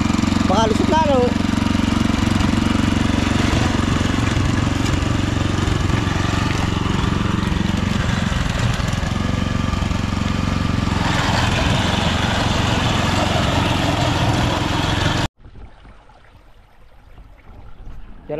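A motor runs in a loud, steady drone beside a fish pond under construction, constant for about fifteen seconds before cutting off abruptly, leaving quiet room tone. Faint voices sit beneath the engine noise.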